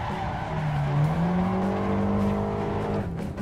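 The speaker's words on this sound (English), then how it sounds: "let's try to drift this one" A car drifts in the racing game Assetto Corsa, its tires squealing in a long rising whine over a steady engine roar for a few seconds.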